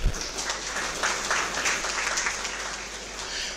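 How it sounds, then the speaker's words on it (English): An inauguration audience at Vishwa Vishwani B School breaks into applause, a dense crowd of clapping that starts with a sharp onset and holds steady for a few seconds. "a big round of applause for the self"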